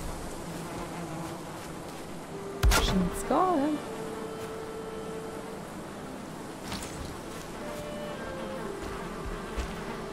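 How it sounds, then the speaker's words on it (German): Bees buzzing at a beehive in the video game Valheim, a steady low insect drone under someone speaking briefly, with a few short game clicks and tones over it. "Bienen sind glücklich."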